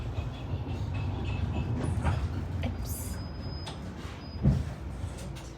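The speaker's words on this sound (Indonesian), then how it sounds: "sekarang kita lagi ada di kereta" Steady low rumble of a moving train car from inside, in Germany, with rattles, a brief high squeal and a sharp clunk near the end.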